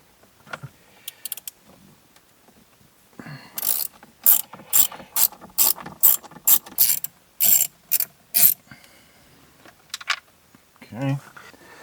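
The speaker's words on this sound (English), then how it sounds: "I've just got a T25 Torx bit" A hand ratchet clicks in a quick run of sharp, evenly spaced strokes while loosening a Torx T25 fastener on a 2011 Ford Fiesta dash, close up, with a few quieter clicks and shuffling before and after.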